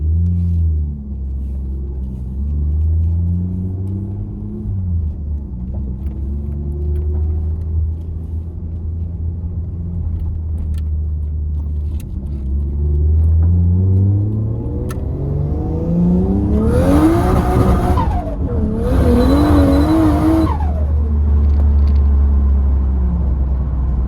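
A Nissan R33 turbo car running E85 fuel accelerates through the streets at 17 psi of boost, with a rising engine drone and two loud hissing turbo flutter bursts near the end.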